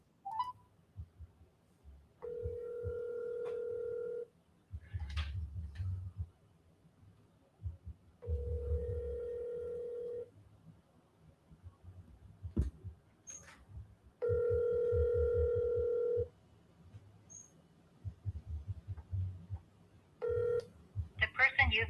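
Telephone dialing tones of an outgoing phone call: several steady tonal beeps, each about two seconds long, separated by quieter gaps with faint low rumble and brief clicks.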